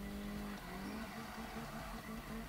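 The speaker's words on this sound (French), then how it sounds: "il vient drifter en Mitsubishi celui-là." Mitsubishi 4x4 drifting in a Need for Speed racing game, with a steady, loud engine drone and a sustained tire squeal running through the whole stretch, no voices over it.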